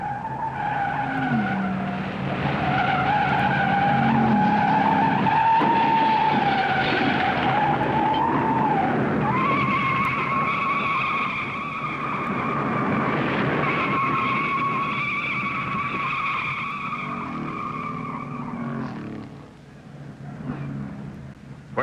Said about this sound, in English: Spinning into the infield as he tried to take evasive action.